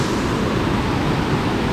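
A mossy, slippery waterfall on Ko Samui, Thailand, roars as a steady, broadband rush of falling water, close and continuous, with no voices.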